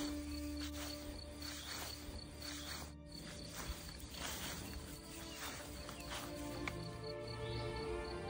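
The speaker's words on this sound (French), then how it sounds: "C'est agréable ce calme d'entendre les oiseaux, les cris des grenouilles." Calm evening outdoors at 8 p.m., with a dense, steady chorus of frog calls and insect-like trilling, scattered bird calls over it, continuous and moderately loud, no voices.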